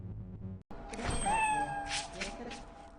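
A cat meows in a Half-Life 2 mod, a single drawn-out, rising and then level cry heard over game background noise, after a brief silent gap.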